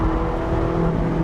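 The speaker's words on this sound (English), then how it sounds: "I always love starting my mornings hearing the sound of the Ferrari." A Ferrari engine holds a steady, loud, close drone with a deep, even tone throughout the short stretch, and no voices over it.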